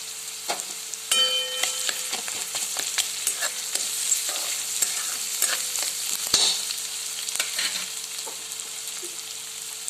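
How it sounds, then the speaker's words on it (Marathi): Onion and masala stir-frying in butter in a pan, a constant bright sizzle broken by frequent scraping and clicking strokes of a spatula, close and clear with no voices. "लाल होईपर्यंत आपल्याला हे सर्व परतून घ्यायचं आहे। त्यामध्ये टाकूया थोडंसं बटर,"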